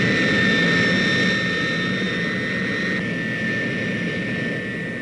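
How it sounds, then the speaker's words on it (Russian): Soviet laboratory aircraft taking off behind the carrier plane of the AN602 hydrogen bomb, a steady, loud jet engine roar with a whining high tone, slowly fading slightly as it climbs, with no talking. "Следом за носителем в воздух поднимается самолет-лаборатория."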